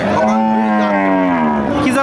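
A Sindhi breed cow moos once, a long, loud, drawn-out low call lasting about two seconds, close by with no talking.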